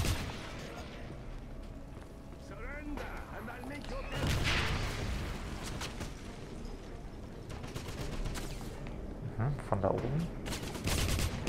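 Enemy gunfire in the shooter Wolfenstein crackles in scattered bursts through a battle, moderately loud, with a few sharper shots near the end, under someone speaking German.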